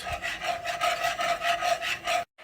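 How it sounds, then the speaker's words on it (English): Flour being whisked into melted butter in a pot to make a roux, heard as a rapid, even scraping rhythm of the whisk against the pan, close and steady for about two seconds, then stopping, no talking. "you're going to go on ahead and add in your ½ cup of your flour, and you want to make sure that you whisk this until it gets nice and smooth"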